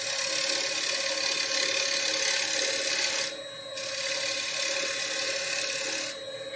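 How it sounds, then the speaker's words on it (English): Shear cuts with a lathe tool on a green wood bowl give a steady, close, hissing rasp that runs continuously and dips briefly twice as the tool lifts, with no voices. "A little shear cuts now."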